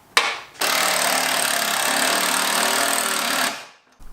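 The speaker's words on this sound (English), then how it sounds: "I'm using these little self-tapping bolts." A loud power drill whirs steadily for about three seconds, driving a self-tapping bolt in close on a turbo LS engine build, then winds down and stops.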